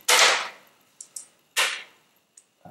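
Dice being re-rolled during a Star Trek: Frontiers board game: two sharp clattering rattles on a table, each fading quickly, followed by a few faint small clicks.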